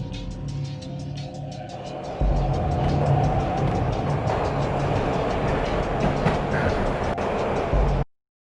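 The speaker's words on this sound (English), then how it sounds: "This was my second train ride of the night." Train ride in the video game Max Payne: a steady, loud rumbling roll of a moving train with a sharper surge after about two seconds, continuous clatter and rush to the end, no talk.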